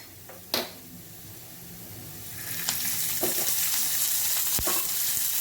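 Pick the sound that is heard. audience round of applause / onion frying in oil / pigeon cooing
onion frying in oil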